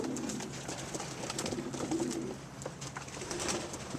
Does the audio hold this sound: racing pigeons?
yes